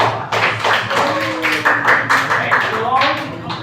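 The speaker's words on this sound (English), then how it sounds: "Let's give yourselves a warm round of applause" Audience in a classroom or lecture setting breaking into a round of applause, continuous clapping layered with voices talking over it.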